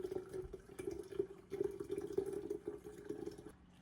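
Liquid horchata pours through a strainer into a pitcher, a soft continuous trickling and splashing stream with a faint tonal ring, close and quiet, with no talking.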